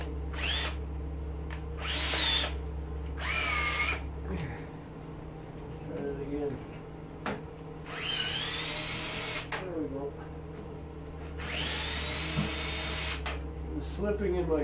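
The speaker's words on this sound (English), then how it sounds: "Slipping in my drill." Power drill with a nut driver bit slipping while taking apart an arc welder, whining in repeated bursts over a steady low hum, with people talking in between.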